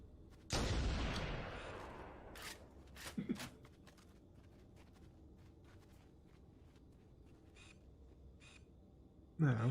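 Cannon fire from gun emplacements in the Halo: Combat Evolved video game, with one loud booming blast early followed by scattered sharper reports and quieter distant shots over a low ambient hum.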